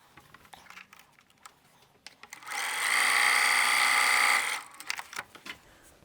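A sewing machine stitches a seam on fabric pieces for a Battenberg block quilt pattern. The steady whir runs for about two seconds, close and fairly loud, with quiet handling clatter before and after and no talking.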